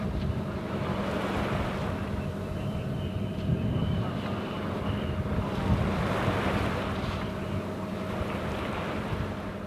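A sailboat motors offshore at sea into a light headwind, with a steady low engine drone blending into continuous rushing waves and wind noise buffeting the microphone, loud and unbroken throughout.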